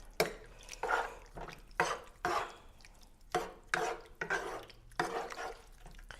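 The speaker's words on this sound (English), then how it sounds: "Mix that all up really good." A spoon stirring sautéed onions, green peppers and mushrooms with Italian seasoning in a pan, heard as a series of separate scraping, sizzling strokes at a steady rhythm, close and fairly quiet.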